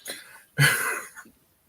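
A short cough followed by a louder, harsher throat-clearing burst, close to the listener, then quiet.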